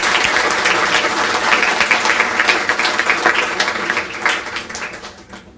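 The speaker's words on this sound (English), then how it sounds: "Let's give them a great round of applause." An audience at a student of the year ceremony claps in a sustained round of applause, loud and dense at first and then thinning and fading toward the end.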